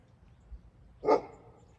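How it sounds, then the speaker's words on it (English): A dog gives one short bark at moderate distance outdoors after a baseball hit off a tee, a single brief woof in otherwise quiet surroundings. "She always is barking at me whenever I hit."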